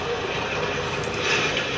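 An old train rolls along rails in the background of a WWE 2K20 match, a steady rumbling, clattering mechanical drone with a faint ratcheting texture that stays level throughout.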